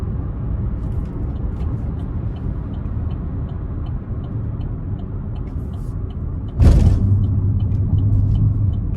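A 2024 Buick Encore GX with a 1.3-litre three-cylinder and CVT drones as a steady low engine and road rumble from inside the cabin, then a sudden louder whoosh as it accelerates.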